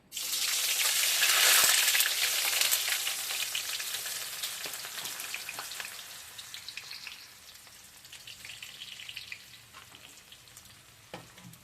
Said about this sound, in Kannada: ಈಗ ನೋಡ್ರಿ, ಇದು ಕಾದೈತಿ. ನಾನು ಉಳ್ಳಾಗಡ್ಡಿನ ಹಾಕೊತೀನಿ ರೀ.